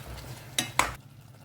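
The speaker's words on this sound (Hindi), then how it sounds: "अब इसको ना अच्छे से मिक्स करें।" A spoon stirring watery masala in a pan, with two sharp scraping strokes against the metal over a low simmering background, then quiet.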